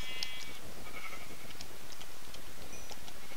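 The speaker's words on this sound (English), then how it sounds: "Come on, sheep." Sheep bleat in the Minecraft video game, a few short, fairly quiet calls rising over a steady background hum with no talk.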